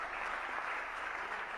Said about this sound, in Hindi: जरा तालियां बजा दीजिएगा।